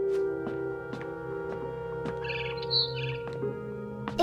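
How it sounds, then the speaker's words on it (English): A barn swallow chirps in the video game What Remains of Edith Finch, a brief cluster of high twittering calls over a steady tonal musical hum, fairly close and clear. "Then I heard chirping outside my window."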